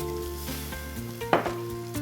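Hot water is poured into a stewing pot of dried plum stew and hisses and sizzles, with a sharp splash burst midway over steady background music.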